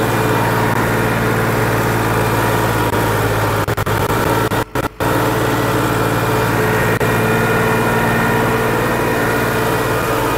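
A Massey Ferguson 260 DI tractor with blue smoke and a power leak, its diesel engine running in a loud, steady drone that briefly cuts out midway.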